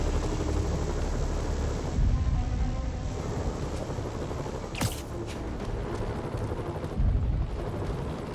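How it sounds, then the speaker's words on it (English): A steady, dense mechanical rumble of helicopters drones throughout, with sharp cracks and bursts of game action cutting in over it, in Marvel's Spider-Man Remastered. "Bet I can use those helicopters to swing."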